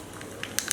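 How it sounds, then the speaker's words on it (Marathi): Mustard seeds dropped into hot oil, a few sharp crackles and pops breaking out over a low sizzle, close and brief. "तेल गरम झाले, मोहरी घालूया"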